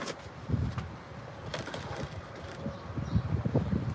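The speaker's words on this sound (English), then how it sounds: "It's so windy today." Gusty wind buffets the microphone outdoors in a garden, rising and falling in soft rumbling swells with faint rustling and a few distant bird calls.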